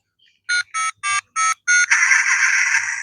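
A Transformers Knight Rider Agent Knight toy plays electronic sounds: five short, evenly spaced beeps, then a sustained buzzing tone, all clear with no voices.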